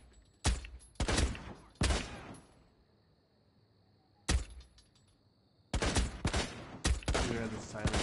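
Gunfire in a Rainbow Six Siege Terrorist Hunt match, sharp separate shots and short bursts in clusters with quiet stretches between, loud and close.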